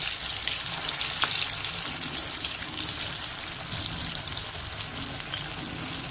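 Paneer cheese balls frying in hot mustard oil over a medium flame, a continuous bubbling sizzle with crackling and popping, steady and close.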